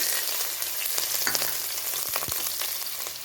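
Green chilies sizzle steadily in hot tempering oil with carom seeds, a continuous close crackling fry with small pops and a brief stirring clink, no voices.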